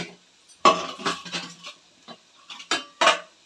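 A spoon scraping and stirring cooked leftover rice into a seasoning mix in a pan, several short irregular clinks and scrapes separated by brief pauses, close and clear with no talk.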